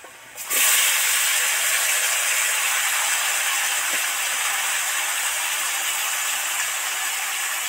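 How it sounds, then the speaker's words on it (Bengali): Marinated jackfruit pieces for a Bengali echor kaliya curry hit a hot pan of fried spices, setting off a sudden loud sizzle that holds as a steady, close hiss to the end. "এবার এই ম্যারিনেট করা এঁচোড়ের টুকরোগুলো এর মধ্যে ছেড়ে দেব"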